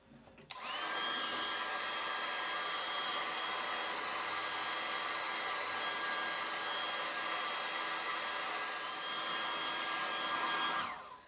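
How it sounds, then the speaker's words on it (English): A hair dryer blows steadily at close range with a constant high whir, switching on abruptly and cutting off near the end. "I'm going to melt it with a hair dryer."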